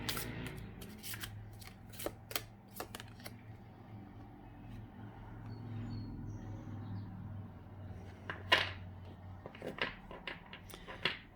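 Playing cards are shuffled in quick riffling bursts, crisp flicking and snapping sounds close up, separated by short pauses over a quiet background hum.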